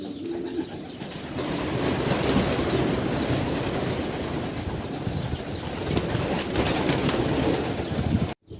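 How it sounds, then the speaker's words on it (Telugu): Pigeons kept under a shed in a garden in Kuwait, with a dense, steady mix of cooing and fluttering wings that runs unbroken and fairly loud throughout, with no talking. "ఇది ఒక షెడ్ కింద వేసి దీంట్లో పావురాలు అవి పెంచుతారు"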